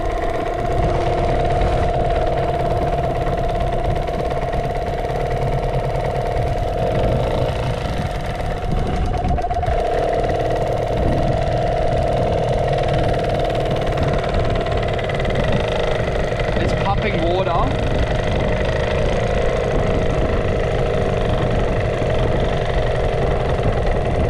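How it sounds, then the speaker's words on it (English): Outboard boat motor on a boat at Great Keppel Island, running steadily after starting, a continuous mid-pitched idle with mechanical clatter, close and loud throughout. "We're going to start this outboard now and see what's happening with it."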